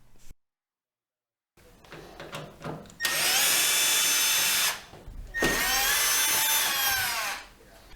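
A power screwdriver removes the side panel screws from a vented tumble dryer in two loud, whirring bursts of a second or two each, close up. Quieter handling clicks come before them after a brief silence.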